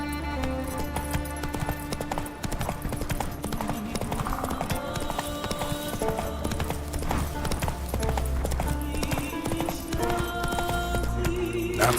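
Roach, the horse in the Witcher 3 video game, gallops in a steady, rapid clip-clop of hooves that carries through the whole stretch beneath a dense orchestral music score.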